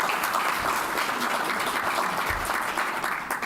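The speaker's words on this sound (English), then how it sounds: "Can we give them a round of applause?" An audience at a talk on converting Ohio dairy farm manure into energy gives a dense, steady round of applause that runs for the whole clip.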